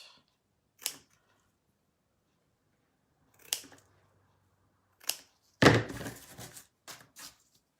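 Scissors trim ribbon decoration on a painted spring mason jar, a handful of crisp isolated snips spread out in quiet, followed by a short cluster of rustling cuts near the end.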